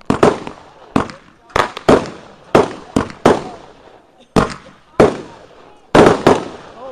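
Family fireworks, including an artillery shell firework, go off as a series of sharp, loud bangs, some single and some in quick pairs, each trailing into a short crackling decay.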